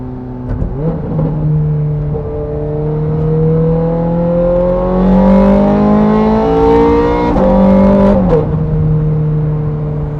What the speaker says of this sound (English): When you have a noise this good